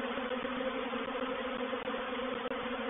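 A honey bee swarm buzzes close by in a steady, dense drone with a low humming tone, continuous and fairly loud with no voices over it.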